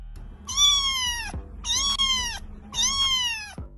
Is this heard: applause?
no